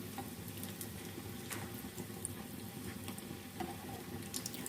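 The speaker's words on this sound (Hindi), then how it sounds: "दोनों साइड से अच्छी तरह से समोसों को फ्राई कर लेते हैं नॉर्मल आंच पे।" Potato samosas frying in oil over a normal flame, giving a continuous low, even bubbling sizzle with faint crackles and no talk.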